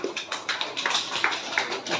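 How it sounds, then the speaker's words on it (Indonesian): A church catechesis group gives a short burst of scattered applause, a small gathering clapping unevenly at moderate distance with faint talk mixed in. "kita berikan tepuk tangan"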